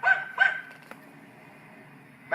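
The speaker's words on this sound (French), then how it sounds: "qu'est-ce qu'il a aboyé comme ça?" A dog barks twice in quick succession, fairly close, followed by a faint knock and quiet room tone, with one more bark cut off at the end.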